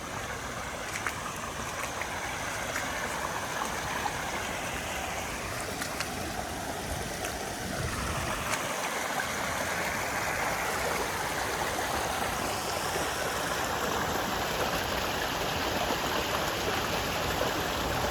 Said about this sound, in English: And look at that creek.